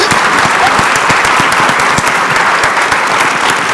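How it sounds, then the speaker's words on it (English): An audience in a conference ballroom bursts into dense, loud applause for a panel, a continuous close wash of many hands clapping with no pauses. "I'm going to stand and begin the applause for this tremendous panel"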